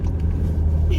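Steady low engine rumble and road noise from a car being driven in traffic, continuous throughout with a voice talking over it.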